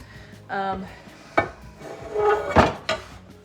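A metal frying pan clanks and scrapes inside a kitchen cabinet, a few sharp knocks and rubbing sounds, close and fairly quiet, with no talking.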